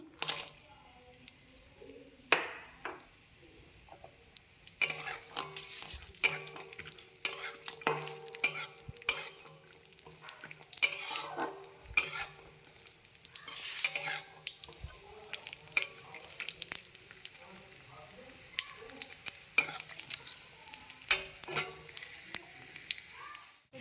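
A bay leaf sizzles in warm ghee in a pan, a soft crackle punctuated by sharp clicks and scrapes of a utensil against the pan, fairly quiet and close.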